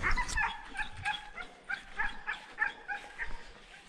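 A dog yips and whines in quick, uneven bursts, fairly faint and a little distant, over low background rumble.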